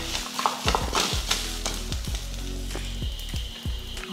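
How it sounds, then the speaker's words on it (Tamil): Beetroot sautéing in a pan for a coconut-free chutney, with a steady soft sizzle and repeated scraping stirs of a spoon against the pan, close and alone without talk. "பீட்ரூட் வந்து நல்லா வதக்கியாச்சு"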